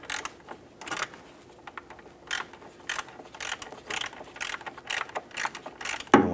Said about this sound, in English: Going to use our socket and 1/4-inch ratchet to get in there,